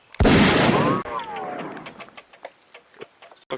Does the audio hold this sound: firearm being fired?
yes